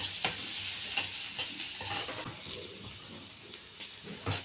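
Sliced onions fry in oil in a hot pan, a steady close sizzle with soft crackles and occasional stirring scrapes and clunks, ending on a sharper knock.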